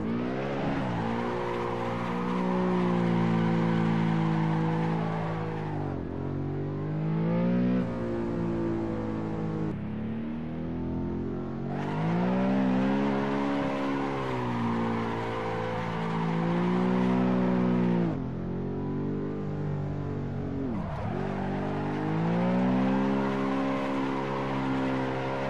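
A car drifts in the Assetto Corsa racing game, its engine droning loudly and rising and falling with throttle, with sharp drops at shifts and a continuous tire-squeal wash over the top.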